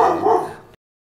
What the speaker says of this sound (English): And there's the dog.